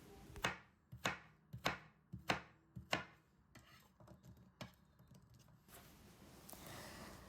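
Potatoes being chopped into small cubes on a board, a quick series of about nine sharp, close knife strikes with short gaps between them, followed by softer rustling as the pieces are moved.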